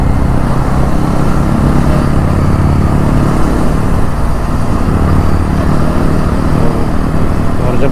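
Motorcycles and traffic on a mountain highway heard from a moving 650 motorcycle, a loud, steady engine drone and road rumble running continuously with wind, close by and with no talking.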